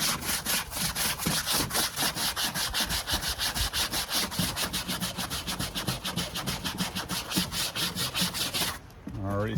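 Hand scrubbing at a stain with Aqua Traction cleaner: fast, steady back-and-forth rubbing strokes, close and continuous, stopping abruptly just before the end.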